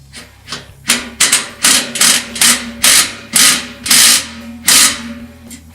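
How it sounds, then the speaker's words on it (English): Power drill snugging up the bolts of a self-closing gate kit, a run of loud, close whirring bursts in an uneven rhythm, each rising and cutting off, with a steady hum underneath and no talking. "you're going to take your drill and snug it up"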